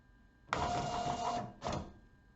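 Zebra label printer restarting after a firmware update, two short mechanical whirring bursts, the first about a second long, the second briefer, close and alone.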